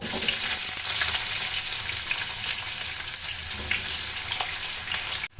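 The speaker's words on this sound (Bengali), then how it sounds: "আমি কিছুটা পরিমাণ পেঁয়াজ কুচি এর ভিতরে দিয়ে দেবো" Chopped onion fries in a pan with cardamom, giving a steady close sizzle with crackling pops for several seconds before cutting off abruptly.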